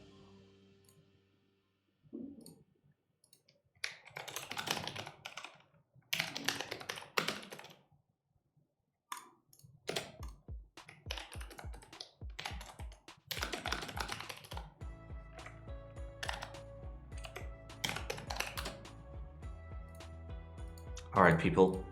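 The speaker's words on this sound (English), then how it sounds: "What switches am I typing on?" Typing on a mechanical keyboard with Space Invader switches: bursts of rapid clacky keystrokes in uneven runs, close and crisp, alternating with someone talking.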